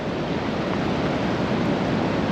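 A small waterfall on a river, heard as a steady, full rushing roar of falling water that stays constant throughout, with no voices.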